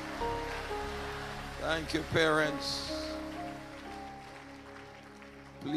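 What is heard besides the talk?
congregation clapping hands in church service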